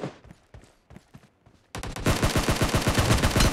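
Gunfire in the BGMI mobile battle game: a few scattered shots first, then a loud, dense burst of rapid automatic fire that keeps going to the end, close and with no voices.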